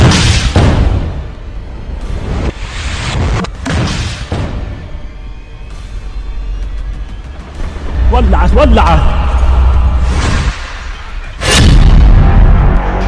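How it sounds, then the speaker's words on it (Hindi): A Yasin rocket strikes an Israeli Merkava tank at the end of a street in the Israel–Hamas war, heard as several heavy booms and blasts spread across the stretch while someone speaks over them. "इसके गली के एक मुहाने पर खड़े इजरायल के मरकाबा टैंक को यासीन रॉकेट से टारगेट किया जाता है।"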